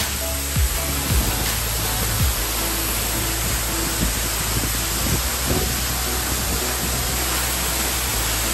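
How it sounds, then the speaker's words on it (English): A waterfall in Wales roars as a loud, steady, broadband rush of falling water heard from close range, drowning out everything else without letup. "Next to a waterfall."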